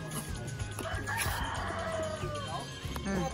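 Chickens clucking and crowing at a rural hacienda chicken farm, bird calls overlapping in a busy, close mix with voices talking over them throughout.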